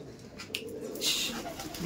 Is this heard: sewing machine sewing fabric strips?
no